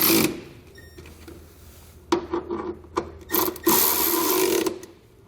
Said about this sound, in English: We now want to come back with a 13mm socket and tighten down our hardware going into our unibody.